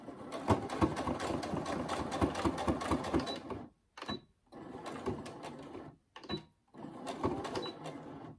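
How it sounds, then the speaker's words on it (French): A sewing machine runs a topstitch along the edge of a fabric banana bag, stitching steadily for several seconds, pausing briefly, then running in short bursts and resuming a longer run, close and fairly loud. "on va faire une petite surpiqûre dans l'autre sens"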